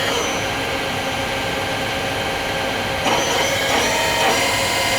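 A Johnsford CNC mill spindle turning at about 1,000 RPM, a steady mechanical hum with broad machine noise, alone and fairly loud, with a few brief louder rattles in the last two seconds.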